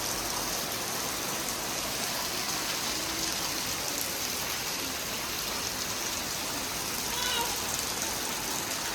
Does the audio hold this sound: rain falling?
yes